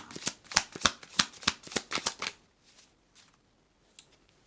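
Tarot-style cards shuffled for a card reading, a quick run of sharp riffling slaps for about two seconds, followed by a few soft taps as the deck settles.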